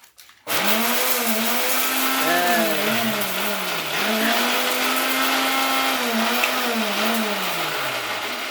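A mixer grinder running during a festival, starting abruptly and then whirring loudly and steadily, its motor pitch wavering slightly up and down throughout.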